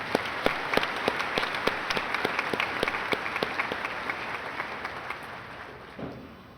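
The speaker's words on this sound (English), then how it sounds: "Please join me in giving another round of applause to our American Legion Award recipients." An audience at a junior high school graduation ceremony gives sustained applause, a broad wash of many hands clapping in a large room, steady at first and gradually fading toward the end.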